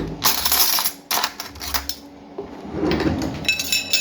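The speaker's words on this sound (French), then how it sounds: "je prends mes cuillères" Metal spoons clink and clatter as they are gathered up and handled beside a tiramisu at an Easter get-together with friends: a run of close, bright knocks and rattles, with no one speaking.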